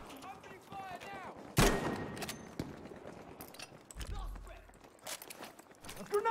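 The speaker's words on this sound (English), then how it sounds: "Opening fire now!" Gunfire in a Battlefield V match, a loud burst of shots followed by scattered bangs and clatter, with a player talking over the action.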